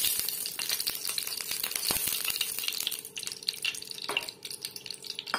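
Oil sizzling in a frying pan where lentil badi were just fried, a close crackling hiss with scattered sharp pops and rattles, no talking.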